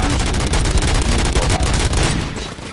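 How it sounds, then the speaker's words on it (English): Rapid, loud bursts of gunfire from the RoboCop video game crackle continuously in a dense volley, fading slightly at the end. "Gunshots? What's going on?"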